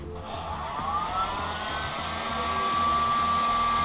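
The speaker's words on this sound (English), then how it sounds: "So always think about the heat when you're using a heat gun, what temperature you need." A heat gun blows steadily at around 200 degrees while softening vinyl wrap on a VW Golf grille, a continuous close whooshing roar with a faint high whine, rising slightly toward the end, no voices.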